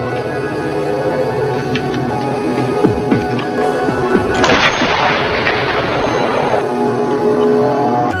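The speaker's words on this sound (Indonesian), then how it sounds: "ia melepaskan sebuah tembakan yang begitu" A single powerful sniper rifle shot in a war film cracks out midway, followed by a broad rolling echo over steady low background noise.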